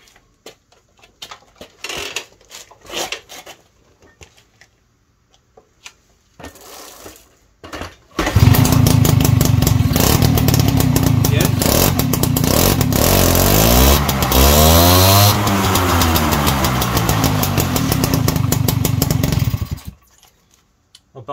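A Peugeot 103 VS moped with a Moriyama electronic ignition is kicked over, sputters briefly, then fires into a loud, steady two-stroke buzz for about twelve seconds, revving up and down before cutting off abruptly.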